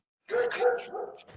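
A dog barks once in a short, close bark that rises and trails into a brief yelp, clear and fairly loud with little else around it.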